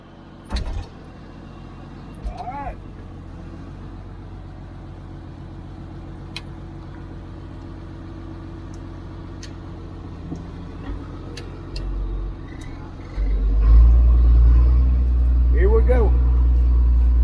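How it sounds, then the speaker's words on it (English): An old Peterbilt truck pulls in, its engine a low rumble that builds to a louder, closer idle near the end, with someone talking over it. "here the truck's made it. Pretty old Peterbilt"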